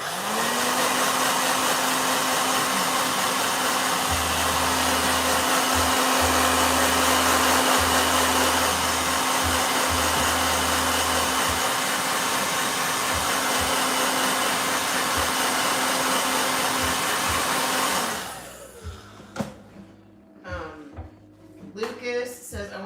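A blow dryer runs with a steady whirring hum for about eighteen seconds, then switches off, leaving quieter room sounds and faint talk.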